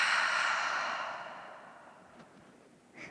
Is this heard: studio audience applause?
no